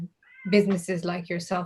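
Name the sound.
cat meowing in the background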